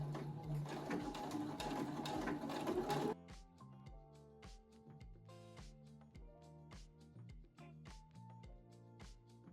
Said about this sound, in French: Là on coud à 1 cm et on va mettre la largeur de point à 3.